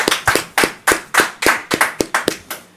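A few people clap for the rapper, sharp, distinct claps close by in an irregular, quickening rhythm, about a dozen in under three seconds.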